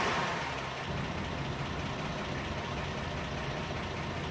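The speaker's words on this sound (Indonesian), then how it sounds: "maka mesin mobil akan menyala" A 1970 Toyota Crown engine, fitted with a fingerprint push-button start system, runs at a steady idle with a continuous low rumble close by.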